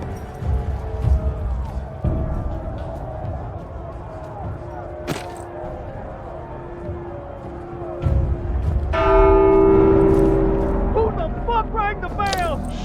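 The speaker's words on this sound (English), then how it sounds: "Rang the bell!" A church bell in The Walking Dead VR game rings with a few resonant strikes heard among tense voices, footsteps and ambient game noise, growing louder toward the end.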